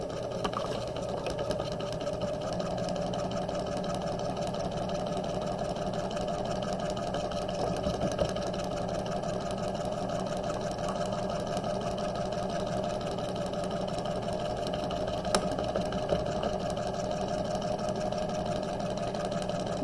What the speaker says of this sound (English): do the same thing to sew the other side seam